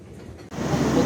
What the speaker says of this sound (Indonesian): Pukul 13:24 kereta api Cakrabuana tiba di stasiun Jatibarang.